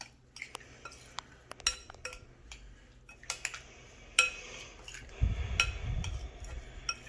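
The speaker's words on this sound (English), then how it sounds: "Just stir it up a little bit. Make sure it's good and coated in there." Utensil clinks and scrapes from stirring blackened Cajun-seasoned shrimp and asparagus in a covered pan, with scattered light taps and a brief rustle of food, close and fairly quiet.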